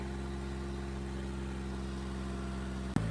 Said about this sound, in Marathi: फायनली मित्रांनो ट्रॅक्टर चढला